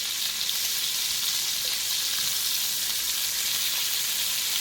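Crab-stuffed New York strip steaks sizzle loudly and steadily in a hot pan, a continuous bright hiss of frying with no voices.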